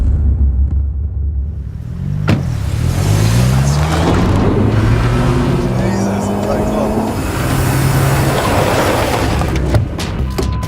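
Honda Civic Type R driving fast, engine note climbing through repeated rising sweeps as it accelerates and shifts, loud and close with road roar and brief tire noise.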